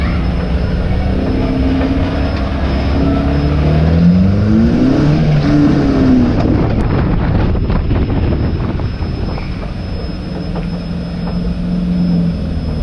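Stock cars racing a heat on a wet track in the rain, engines droning loud and steady with rising and falling pitch sweeps as cars pass close, under constant wind buffeting on the microphone.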